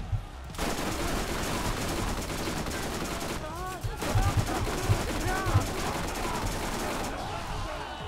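Turret gunfire in the video game Borderlands rattles in sustained rapid bursts, loud and close, with a brief lull before resuming, and faint voice-like sounds woven through the shooting.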